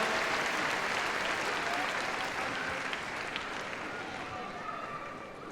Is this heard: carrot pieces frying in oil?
no